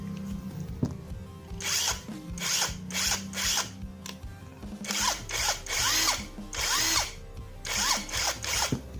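A cordless Nagawa or JLD 48V impact wrench fires in repeated short bursts, whirring up and hammering briefly before stopping, several times in a row, close up with no talking.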